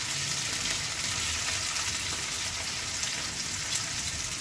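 Four green chilies fry in hot oil with a steady, dense crackling sizzle that carries evenly from start to finish, close and fairly loud, with no talking over it.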